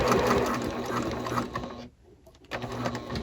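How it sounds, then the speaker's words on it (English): Sewing machine stitching the final assembly of a fabric Thistle Pocket Tote: a loud, close, steady mechanical whir that stops briefly near the end and then starts again. "Then stop and rotate and sew again along the top near the slide."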